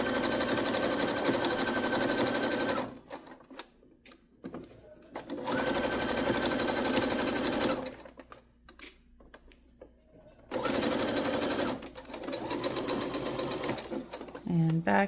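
A sewing machine stitches side facings on a zero-waste top in steady close bursts, pausing between runs for pin removal, ending with a short back stitch.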